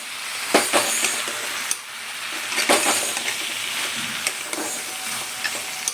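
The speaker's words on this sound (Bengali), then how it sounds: "দেখে নিন, চিংড়ি মাছ আর বড়িটা দিয়ে দিলাম।" Fried shrimp and lentil dumplings (bori) go into a hot pan and sizzle loudly, with spatula stirring scrapes and bursts of crackling close by, no voices.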